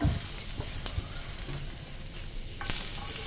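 Steady crackling sizzle of chopped garlic frying in hot oil for chilli paneer, close up, with occasional clicks and stirring touches.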